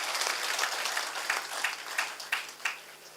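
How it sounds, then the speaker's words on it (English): Audience at an international conference breaking into a burst of applause, dense steady clapping filling the room with a few louder individual claps standing out, no voices over it. "ताली बजा दीजिए, by clapping you scored it."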